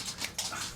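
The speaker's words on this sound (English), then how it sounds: "Sorry about the dog." A dog in a room whimpers in short, high, breathy whines, a few quick bursts close by with no talking over them.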